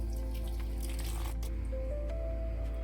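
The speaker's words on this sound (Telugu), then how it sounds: "ఇప్పుడైతే కొద్దిగా వాటర్ వేసుకుంటున్నాం" Water poured into a pan of village-style stuffed brinjal curry (gutti vankaya) with garlic and ginger, a steady close watery rush and splash running through the whole moment with no talking.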